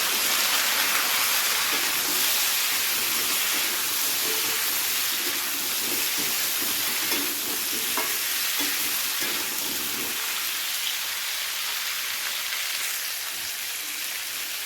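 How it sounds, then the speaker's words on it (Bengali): Vegetables with chopped tomato fry in a pan for a drumstick, potato and brinjal curry, giving a steady, close sizzle with faint stirring scrapes throughout. "তো সমস্ত সবজি একসাথে ভালো করে একটু ভেজে নিয়েছি"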